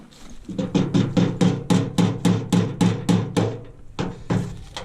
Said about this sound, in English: nothing but a big rubber hammer will help to fix